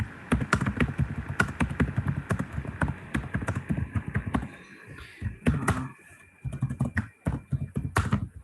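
Rapid computer keyboard typing, close and fairly loud, with dense bursts of key taps that pause briefly around the middle before resuming.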